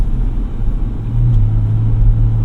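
A 2025 Ford Ranger Raptor in Desert Sand drives along with a steady low engine rumble and road noise heard from inside, the engine note rising slightly partway through.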